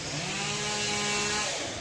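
Chainsaws run in the background outdoors, a steady, unbroken buzzing drone that stays loud and even for the whole moment.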